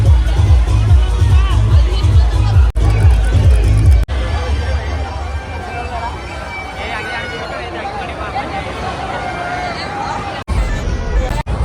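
Dense crowd noise at a Maharashtrian village jatra fair, a loud, continuous babble of many voices with music-like pulsing and a few abrupt cuts, close and steady throughout.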